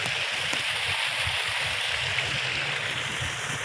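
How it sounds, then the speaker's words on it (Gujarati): Continuous rushing irrigation water flowing through farm channels, a steady broadband flow with low rumbling, heard close by without any speech. "આ બાજુ બધી છે પાણી ચાલુ છે"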